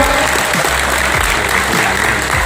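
A packed crowd at a Thai business gathering claps for Cambodian members in the room, a loud, dense and continuous burst of applause with no gaps.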